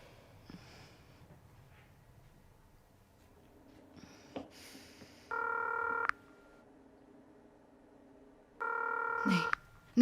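Two short bursts of stacked touch-tone dialing beeps ring out from a telephone, separated by a few seconds of quiet room tone with faint breaths and a light tap.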